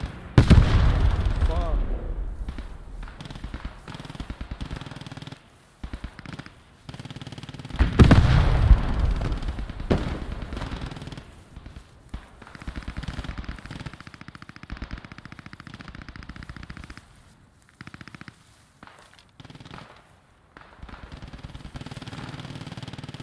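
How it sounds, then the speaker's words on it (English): Tank machine-gun and cannon fire in the WWII shooter Post Scriptum, a battle at La Bistière, with heavy bursts and booms early on, then quieter sporadic gunfire and rumble under talking players. "we got tanks strafing us"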